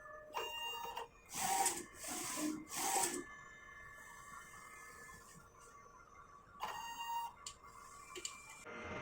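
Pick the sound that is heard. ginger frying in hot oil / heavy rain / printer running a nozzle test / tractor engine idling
printer running a nozzle test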